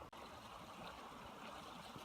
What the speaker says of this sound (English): I'm going to try to capture some moving water under the snow.